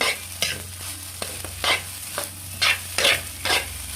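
Egg fried rice with salt and garlic stir-fried over a firewood fire, loud rhythmic scrapes of a spatula against the pan repeating about twice a second over a steady crackling sizzle.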